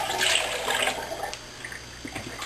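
Water is poured into a bottle to rinse yeast down the sides while brewing beer, a brief gushing splash that fades into a soft trickle, close and fairly quiet.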